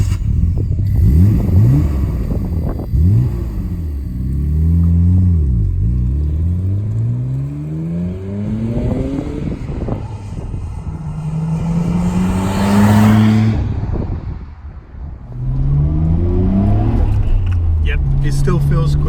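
A car engine revs and accelerates through rising, falling gear changes on a test drive, loud and close throughout, with a voice talking over it.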